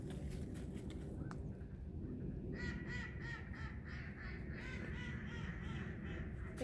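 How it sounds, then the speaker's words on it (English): Ducks quack in a lively outdoor chorus, repeated nasal calls overlapping in clusters against a steady background hum, moderately distant and fairly faint. "I heard the duck quacking."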